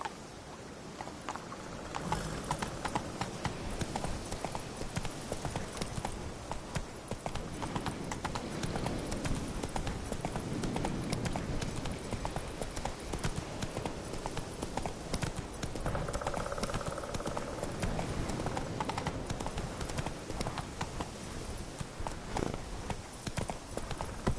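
The horse Roach's hooves clip-clop steadily in The Witcher 3: Wild Hunt, a continuous rhythmic trot heard close under a faint wash of ambient sound.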